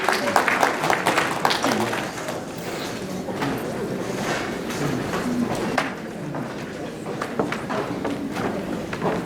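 An audience at an evening honorees recognition event gives a round of applause, dense continuous clapping throughout with voices mixed in over the noise.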